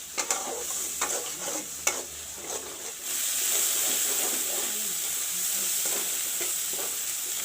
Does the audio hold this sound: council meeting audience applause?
no